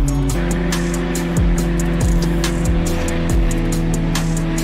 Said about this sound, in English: I'm gonna do a little burnout.